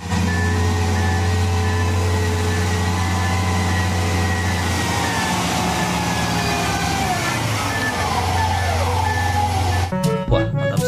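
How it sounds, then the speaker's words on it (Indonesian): Large mining truck with a steady heavy diesel rumble, a repeating reversing beep running throughout, and a brief clattering burst near the end. "Di sini ada truk tambang."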